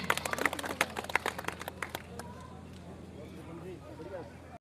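Applause from the crowd at a village celebration of Prithviraj Chauhan's birth anniversary, with loud close claps over the first two seconds that then fade under ongoing talk and crowd murmur.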